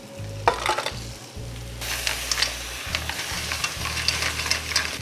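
Crab tossed into masala in a hot pan, frying with a steady loud sizzle and bursts of stirring, no voices.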